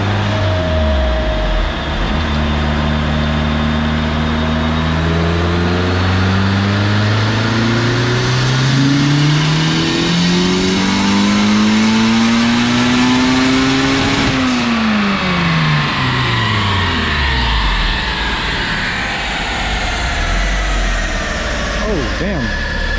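Turbocharged Honda CRX Si engine on a methanol dyno pull at a tuning shop, revving hard as pitch climbs steadily through the gears for about fourteen seconds, then dropping sharply as the throttle closes and the engine winds down.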